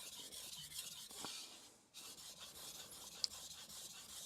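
A knife slides across an inexpensive Japanese whetstone in faint, close rasping strokes, one long pass followed by a brief pause and then another steady gritty rub.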